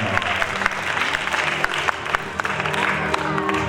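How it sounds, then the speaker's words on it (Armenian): Audience applause at an international festival ceremony honouring the Lomisi choreographic ensemble, a dense, steady wash of many hands clapping from start to finish with occasional sharper claps standing out. "ԵՒս մեկ անգամ ջերմ ծափահարենք"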